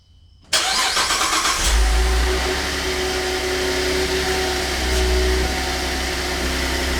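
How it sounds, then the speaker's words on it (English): GMC Acadia with a P0017 camshaft correlation fault cranking and starting, a short whirring crank that catches into a loud, steady idle with a low engine rumble. "I'm going to start the car."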